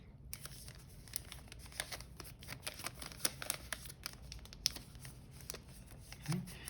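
Paper is creased and folded by hand for an origami chess piece, producing faint, close crinkles and soft crisp taps scattered through a quiet room.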